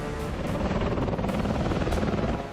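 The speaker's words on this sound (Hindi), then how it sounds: "अमेरिकी युद्धपोत के ऊपर अपने बारूदी हेलीकॉप्टर उड़ाकर नया वीडियो जारी किया है" An armed Iranian military helicopter flying over a US warship in the Persian Gulf makes a loud, steady rotor and engine roar that stays constant throughout.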